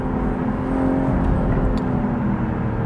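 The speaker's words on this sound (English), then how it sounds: "You can probably hear the engine sound right now because I'm in the sport mode," A steady, throaty 2024 BMW Z4 M40i engine in sport mode hums at a constant low idle-like drone, heard from inside the car with no talking.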